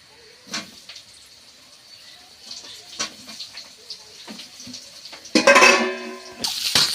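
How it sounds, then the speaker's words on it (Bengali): Green chilli, chopped onion and potato hit hot oil in a home kitchen, sending up a loud hissing sizzle near the end after a stretch of quieter clinks and scrapes of utensils against the pot. "এবার তেলে কাঁচা লঙ্কা আর পেঁয়াজ কুচি দিয়ে দিচ্ছি এবার আলু দিয়ে দিচ্ছি"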